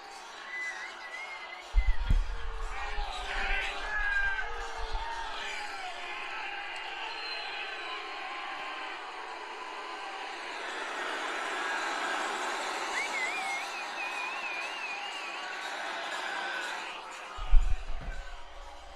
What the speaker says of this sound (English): Listen to the boos.